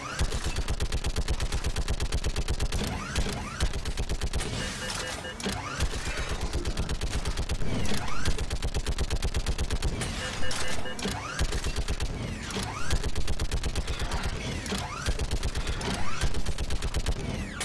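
Rapid turret gunfire from a mounted gun in Mass Effect 3 during the Earth approach, sustained loud automatic bursts rattling almost continuously with booming impacts, a speaking voice faintly under the din.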